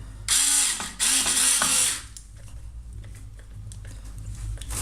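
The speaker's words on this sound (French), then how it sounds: "C'est une petite visseuse, donc très maniable, très utile. Donc je vais maintenant visser." A small electric screwdriver drives screws while a bathtub is fitted, two loud whirring bursts up close with a ratcheting buzz, followed by quieter handling clicks.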